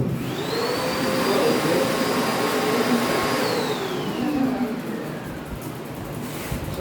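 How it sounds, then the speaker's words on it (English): Vacuum cleaner running steadily on a freshly scrubbed floor, a loud continuous whine whose pitch holds, then drops and fades partway through as the motor winds down. "Just try to use the vacuum cleaner"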